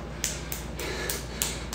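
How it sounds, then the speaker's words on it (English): One person claps during a home fitness workout, four sharp, unevenly spaced claps standing out close over a steady low background hum. "It's the best I can do, clapping for you right there."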